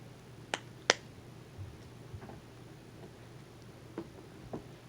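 Pop-it fidget toy being popped: a few sharp, faint clicks and snaps, spaced irregularly over low background hiss, the second pop the loudest.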